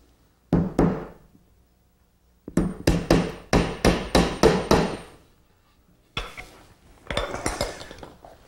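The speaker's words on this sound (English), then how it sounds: "A little touch of glue. We'll drive in a dowel." Sharp hammer blows drive a glued wooden dowel into a hole in a paymaster's desk: two knocks, a pause, then a rapid run of about seven strikes, and a final looser cluster of taps, close and loud with no talk.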